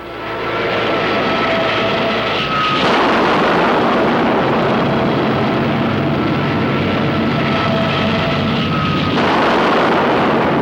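A loud, continuous roar of heavy artillery and aircraft engines in a Korean War battlefield scene, dense and rumbling throughout with a brief shift in intensity partway through.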